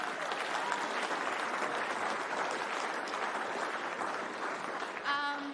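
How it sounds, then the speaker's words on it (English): An audience at an innovation awards evening claps steadily in a dense, sustained round of applause, which fades at the end as a voice begins. "Give them a round of applause."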